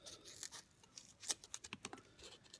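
Scissors cut a strip of material into sections while building a rubber band dragster, quick irregular snips and scraping crackles, close and quiet.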